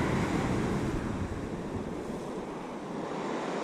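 Big waves breaking on a beach near high tide during shore fishing for bass, a loud continuous roar of surf with wind noise that eases slightly midway.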